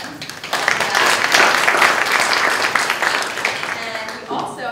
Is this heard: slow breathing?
no